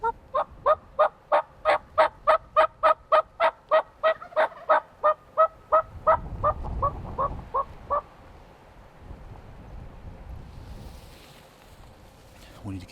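Wild Merriam's turkey hens yelp in a rapid run of about twenty sharp, evenly spaced notes from some distance away, trailing off into quieter scattered calls over low outdoor rumble in cold Montana woods.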